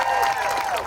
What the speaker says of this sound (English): I don't deserve applause